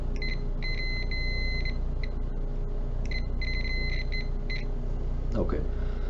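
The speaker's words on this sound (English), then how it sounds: "That's the beeper, which is telling you that there is a continuous circuit." A Fluke T5-600 electrical tester's continuity beeper sounds in several steady, high-pitched electronic tones over a constant low background hum, signalling a continuous circuit.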